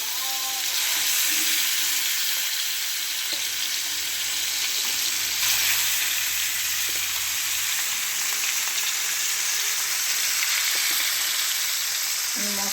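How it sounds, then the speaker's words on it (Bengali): Fish pieces frying in hot white oil for fish biryani, a steady, loud, continuous hiss and crackle close by throughout, with faint clinks now and then and no talking. "এবার মাছগুলো একটা একটা করে দিয়ে দেবো তেলটাও হয়ে গেছে তেলটা ভালোভাবে হয়ে গেলে তবে মাছটা ছাড়বো"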